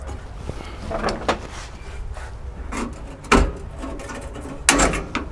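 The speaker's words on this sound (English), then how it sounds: "You can do this and just flip it back and forth, and it'll hopefully take off the rest of the weld." A metal brace is bent back and forth by hand to snap a weld, giving a few creaking, clunking strains and two sharper cracks, up close with no speech.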